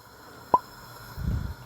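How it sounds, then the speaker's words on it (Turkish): A lid clinks once onto a soup pot on the stove with a brief metallic ring, followed by a soft, low rattle. "Şimdi tenceremizin kapağını kapatalım."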